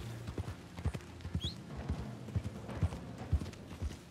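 Horse hooves clip-clopping at a steady walk in Red Dead Redemption 2, a regular rhythm of close, soft thuds over quiet game ambience.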